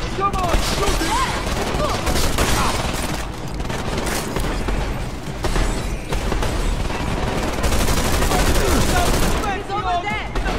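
Rapid bursts of gunfire from the video game Deus Ex: Mankind Divided crackle throughout, overlapping with shouted voices, explosive impacts and mechanical clatter in a dense, busy combat mix.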